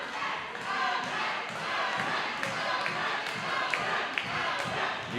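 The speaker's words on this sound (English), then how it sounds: "You hear this crowd" Wrestling crowd at a Titan Championship Wrestling event, a steady broad roar of cheering and shouting from a large audience, with a few thuds from the ring cutting through.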